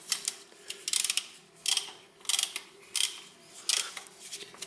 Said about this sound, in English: and then I fasten this tensioner